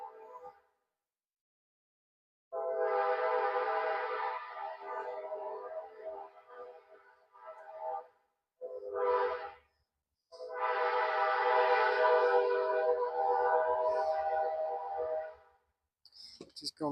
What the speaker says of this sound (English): Just gonna pack it in there as heavily as I can if that train will shut up where you can hear me.